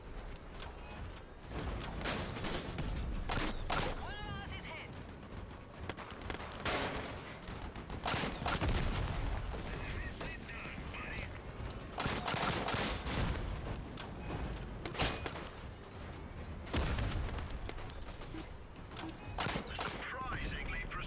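Vehicle-mounted weapons fire in the Crossout combat game, with repeated bursts of gunfire and impacts across a loud, busy battle soundscape, while someone talks over the action.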